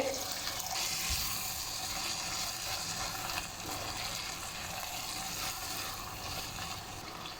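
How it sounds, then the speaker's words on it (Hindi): Half a cup of water rushes steadily into a hot pan of minced meat and capsicum, hissing and sizzling continuously at close range. "हाफ़ कप पानी ऐड करेंगे"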